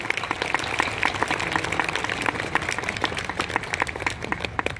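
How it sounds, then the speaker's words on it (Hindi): Loud, dense applause from a large crowd at an archbishop's installation ceremony in Ranchi, many hands clapping continuously with a bright crackling texture throughout. "जोरदार ताली बजाएं।"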